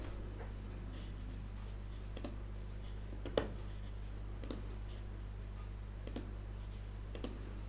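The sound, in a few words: computer mouse clicking through fields in CRM software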